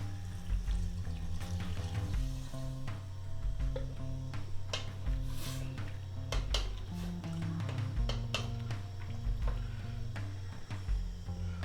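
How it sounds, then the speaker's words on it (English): Water poured into a pot of vegan sweet potato soup, a steady trickling splash lasting several seconds under soft kitchen noise and light clinks, close and moderately loud. "So now I'm going to add all my water."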